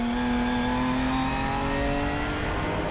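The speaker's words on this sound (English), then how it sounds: "Dennis de Borst trying to go around the outside in the Seat Leon as well in the Gert Timmer chicane" A Seat Leon and other Supercar Challenge race cars accelerating at the Assen circuit through the Gert Timmer chicane, a loud, close engine note climbing steadily in pitch, continuous with no voices.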